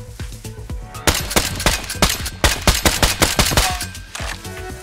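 Suppressed gunshots in a video game crack out in quick, sharp bursts, a dense run of closely spaced shots heard up close with no voices over them.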